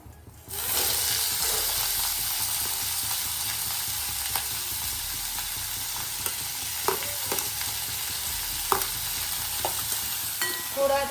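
Onion and tomato sizzle steadily in hot oil with coriander seeds, black and green cardamom and cinnamon, a continuous close frying hiss broken by occasional sharp pops and stirring clicks.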